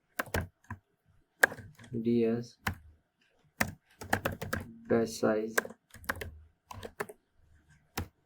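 Clicks of a computer keyboard as code is typed, scattered sharp keystrokes coming in short bursts close by, with a person talking over and between them.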